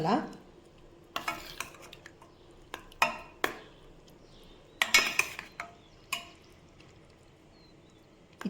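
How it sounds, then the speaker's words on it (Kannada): A spoon stirs banana rasayana dessert after cardamom is added, giving sparse, close clinks and scrapes against a bowl with quiet pauses between strokes. "ಏಲಕ್ಕಿ ಹಾಕಿ ಮಿಕ್ಸ್ ಮಾಡ್ಕೊಳ್ಳೋಣ"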